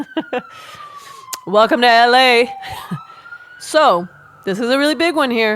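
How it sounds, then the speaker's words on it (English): Police sirens wail through a city in the morning, a steady tone sweeping slowly downward and then rising again under and between loud, close speech. "Sorry about the sirens we got back there"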